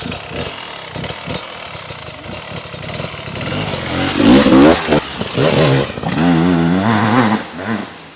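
A new 2025 Beta RR X-Pro dirt bike with only 0.1 miles on it, its engine revving hard in loud, rising bursts that build and fall over several seconds, heard close with no talking.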